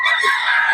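A rooster crows once, loud and close, in a short bright call among a keeper's fowl.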